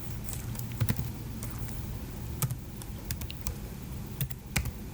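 Rapid typing on a computer keyboard while entering programming code, with quick irregular clicks and a few louder key strikes throughout, close and steady with no voices.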